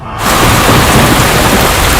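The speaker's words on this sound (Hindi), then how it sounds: "उस रात बारिश हो रही थी" Heavy rain pours as a dense, loud roar with a thunder rumble in a film scene, starting abruptly after a brief quiet and holding steady throughout.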